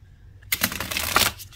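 Tarot cards with rose gold edges riffle in a quick, crisp flurry lasting about a second, close and fairly soft, with no talking.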